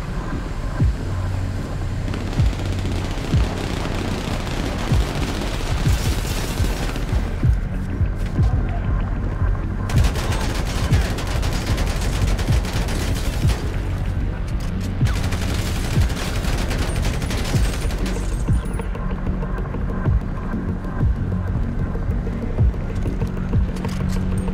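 Dense rapid gunfire in GTA 5 roleplay as a state trooper's shootout unfolds in Jamestown, loud sustained bursts with brief pauses between volleys.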